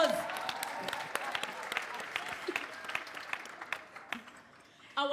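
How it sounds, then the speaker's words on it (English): Audience applause at a women's leadership panel event, brisk clapping that gradually thins and fades, with a voice breaking in near the end. "Give her a round of applause."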